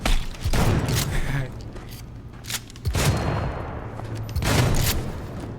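Shotgun blasts in the Cyberpunk 2077 video game, Night City: three heavy, booming shots spaced a couple of seconds apart, each with a long rumbling tail over steady background game noise.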